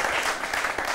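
A studio audience on a television set claps: a dense, continuous patter of many hands, fairly loud and even, lasting only a moment.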